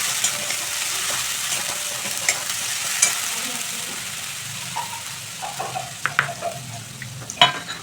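Poppy seed paste with green chillies and black cumin is sautéed in a pan, a steady soft sizzle with occasional scrapes and clinks growing busier toward the end.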